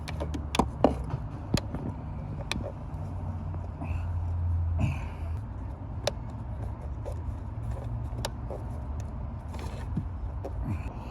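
A Land Rover or Range Rover engine idles steadily after a fuel-system repair for lean codes P0171 and P0174, a low continuous hum with scattered clicks and creaks close by, and no talking.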